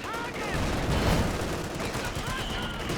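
Rifle and sniper fire in a Company of Heroes 2 battle: a dense, continuous wash of battlefield gunfire and noise, steady and fairly loud throughout, with faint voices inside it.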